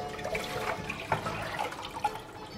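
Water pours and trickles off cooked spinach in a soft, continuous flow, with a few small splashes and drips, close by and fairly quiet.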